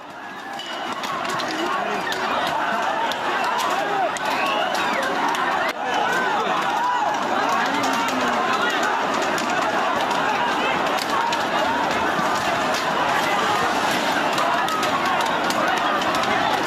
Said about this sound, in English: Sloganeering also taking place.